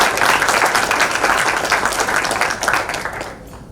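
Applause in honour of the President at an awards event where a 2021 prize is presented, dense sustained clapping from a large audience, loud and continuous for several seconds before fading at the end.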